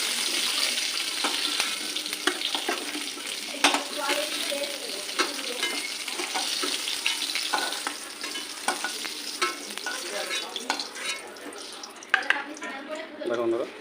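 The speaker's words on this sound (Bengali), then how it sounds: "আলু আর ফুলকপিটা ভাজা হয়ে গেছে" Cauliflower and potato pieces frying in oil for a vegetarian cauliflower curry, a steady close sizzle with stirring scrapes and clinks running throughout, a few louder knocks near the end.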